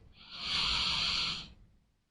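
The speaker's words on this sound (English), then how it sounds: "Breathing in through your nose," One deep breath drawn in through the nose: a soft, airy inhalation close to the listener that swells, holds for about a second, and fades, with no talking.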